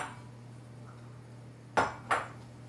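A spoon scoops dairy-free miso caramel sauce from a broken ceramic bowl, making two quick close clinks against the bowl edge after a quiet pause with low background hum.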